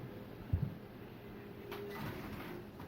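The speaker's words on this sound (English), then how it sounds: "Shut the door." A door is shut inside a home, giving a single muffled thud near the start, followed by quiet room tone.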